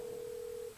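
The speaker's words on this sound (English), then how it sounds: "that's our phone. Our phone's ringing." A new telephone rings in an auto repair shop, one steady electronic tone held for most of a second before cutting off, clear and moderately loud with no talking.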